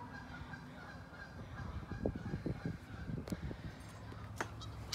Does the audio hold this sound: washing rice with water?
no